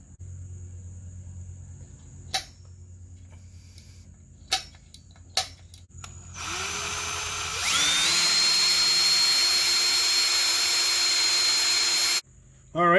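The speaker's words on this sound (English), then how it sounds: "you want to start with the smallest drill bit you own" A small drill bit bores into a Dodge Caravan wheel lug. A few sharp taps come first, then the drill spins up to a loud, steady high whine that cuts off abruptly near the end.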